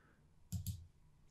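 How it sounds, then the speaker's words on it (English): Two quick, crisp clicks of keyboard keys being pressed in close succession, up close in an otherwise quiet room. "you can press the M key on the keyboard"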